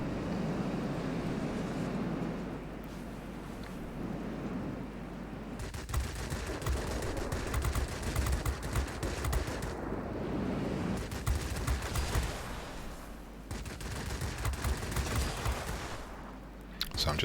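Bursts of aircraft machine-gun fire in World of Warplanes, long rattling volleys over a constant engine drone, some near and loud, with someone talking throughout.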